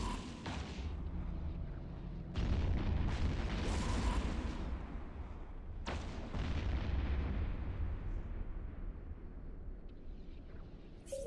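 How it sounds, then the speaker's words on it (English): A wave spawns in the Eve Echoes space game with deep booming explosions and heavy rumbling blasts, several sharp onsets over a continuous low roar, loud and dense without speech. "All you'll see is like the wave spawning and 2 explosions"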